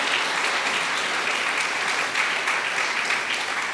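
A large crowd claps steadily at a grand opening ceremony for Weingart Tower 1, a dense, even roar of applause sustained throughout with no voices standing out.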